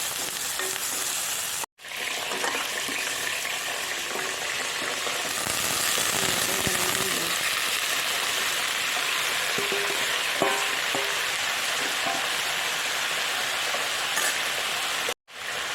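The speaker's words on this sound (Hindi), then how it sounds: "अब हम यहाँ पे डालेंगे जिंजर और गार्लिक पेस्ट, तो भी हम अभी डालेंगे।" Ginger garlic paste fries in a pan for fish curry, a loud, dense sizzle that crackles steadily throughout, broken by two brief cuts to silence.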